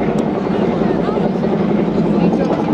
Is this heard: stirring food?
no